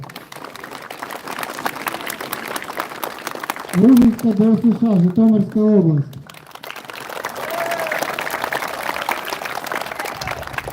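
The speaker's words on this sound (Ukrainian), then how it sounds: "Давайте привітаємо оплесками кожну команду." An audience applauds youth sports school teams from Ukrainian regions. Dense clapping runs for a few seconds, stops while an announcer's voice names a team, then resumes and continues steadily to the end.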